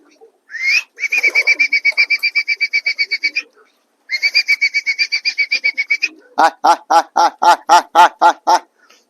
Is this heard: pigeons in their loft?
yes